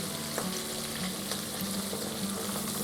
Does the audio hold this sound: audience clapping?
no